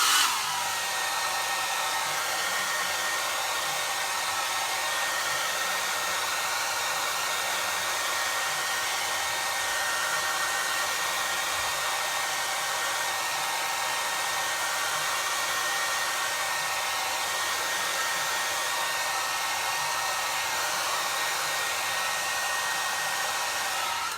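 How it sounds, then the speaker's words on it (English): A hair dryer blows continuously at a steady, even roar to dry gray chalk paint on a craft piece, holding constant for the whole stretch with no breaks. "grab my hairdryer"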